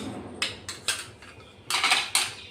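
A spoon clinks and scrapes against a metal bowl in short bursts while dhokla batter is mixed with salt and chili-garlic-ginger paste, close and fairly loud, with no talking.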